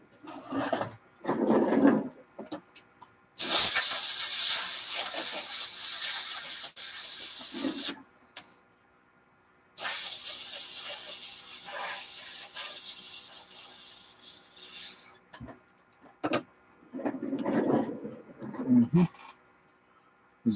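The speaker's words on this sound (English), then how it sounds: "Rinse them off really good." Bursts of hissing water spray rinse Bally Midway Kickman arcade circuit board parts, two long sustained sprays close by, with shorter spurts, handling noises and some talking in between.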